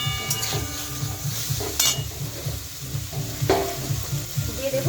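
Boiled, peeled jackfruit seeds go into a frying pan of bottle gourd greens with shrimp, giving a steady close sizzle with scraping stirs and a few sharp clatters throughout.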